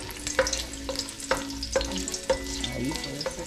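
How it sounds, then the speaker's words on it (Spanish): Jalapeños fry in hot oil, sizzling steadily while a utensil stirs them, making regular knocks and scrapes against the pan about every half second. "los freír un poquito más, solo para que suelten su sabor, ¿sí? Le den sabor al aceite"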